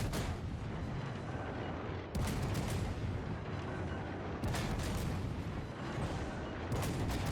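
Naval guns of the destroyer Akizuki firing HE shells in World of Warships: dense, continuous roaring gunfire with three sharp, louder salvo onsets spaced about two seconds apart, heard alone without talk.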